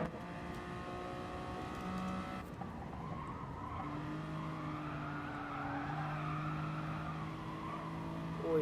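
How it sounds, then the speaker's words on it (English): Racing car tyres squealing at Goodwood in a pro-am race, sustained high tonal screeching over a loud engine roar, shifting pitch as the cars corner hard, continuous and close. "you can hear the tyres absolutely fighting, complaining"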